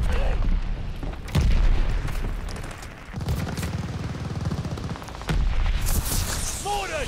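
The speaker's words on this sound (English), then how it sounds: "Watch your head, shells falling." Artillery shells falling and exploding in Call of Duty, heavy low booms that land repeatedly, mixed with bursts of rattling gunfire. The explosions come loud and close, with stretches of rumbling between impacts.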